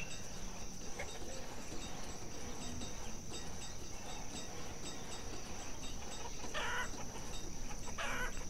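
Chickens cluck in their pens within the farming game Banished, a steady barnyard murmur with crickets chirping throughout, continuous and moderately loud with no voices.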